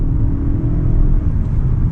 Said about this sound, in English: Now, when you floor it, so if I were to just go all the way down,